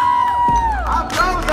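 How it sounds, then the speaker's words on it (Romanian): Crowd cheering and whooping with scattered clapping at a Comic Con 2017 esports match, a loud, dense burst of audience noise lasting under two seconds, with a commentator's voice over it. "Aplauze pentru Colo."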